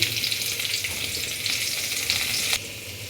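Chopped onions sizzle loudly in hot oil in a home kitchen pan, a continuous bright crackle with a brief stir near the end and no voices.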